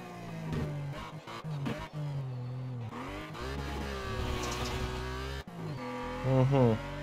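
Race car in the video game Need for Speed Shift 2 accelerating hard, engine note climbing through gears with sustained loud revving, a brief gear-change dip, and a rising high-pitched whine near the end.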